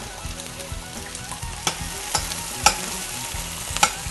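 Sliced onions sizzle steadily in a frying pan as they cook down toward caramelized brown, with a few sharp clicks and scrapes of stirring cutting through the constant hiss.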